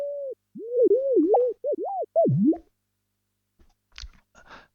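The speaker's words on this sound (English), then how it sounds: "a feature where we can play back these click trains" Porpoise pod click trains played back as audible pitch, producing sliding, warbling tones that rise and fall in quick swoops, followed by a few faint soft clicks.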